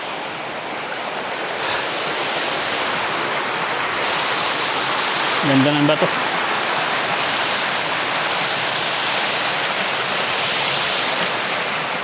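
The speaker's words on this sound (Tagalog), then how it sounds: "Ganda ng agos ng tubig." Rushing water roars steadily from Lalawinan Falls in Siniloan, Laguna, a dense constant hiss filling the scene, with a brief spoken remark partway through.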